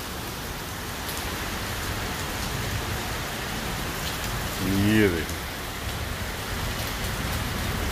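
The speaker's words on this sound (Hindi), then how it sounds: "ज़बरदस्त किस्म की इस वक्त बारिश का सिलसिला जारी" Torrential rain pours steadily in Islamabad amid strong stormy winds, a dense continuous hiss filling the scene, while someone speaks briefly over it near the middle.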